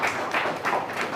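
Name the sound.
audience applause for the panelists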